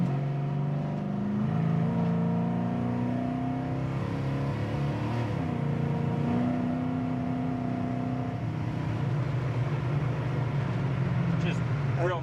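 A restored 1969 Chevy Camaro cruising from inside the cabin, its engine a steady low drone with shifting pitch as it rolls along, while people talk over it throughout.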